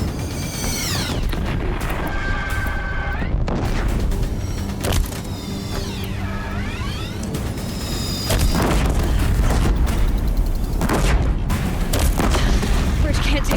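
Deathbringer machines fire on a bridge in Horizon Zero Dawn, with loud booms and mechanical whirs that sweep up and down, continuous and dense throughout, while voices speak over the battle.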